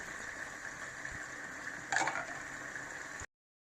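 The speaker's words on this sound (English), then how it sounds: "add the other yams and start your frying" Yam pieces frying in hot oil for Nigerian crispy fried yam, a steady faint sizzle with a brief louder crackle midway, no voices.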